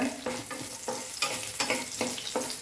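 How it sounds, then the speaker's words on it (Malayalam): Garlic, ginger and green chili sizzle in hot oil for a drumstick curry, with a spoon stirring in regular scraping strokes about every third of a second, close and steady. "പച്ചമുളകിൻ്റെയും വെളുത്തുള്ളിയുടെയും ഇഞ്ചിയുടെയൊക്കെ ഫ്ലേവർ ഇറങ്ങി വരുന്നതിന് അതൊന്ന് മൂക്കണം"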